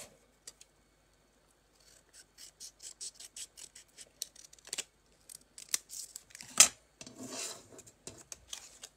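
Scissors snipping through a sheet of gold foil for cardmaking, with quiet handling rustles at first, then a run of close, crisp cuts and crinkles.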